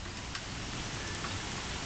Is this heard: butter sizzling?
no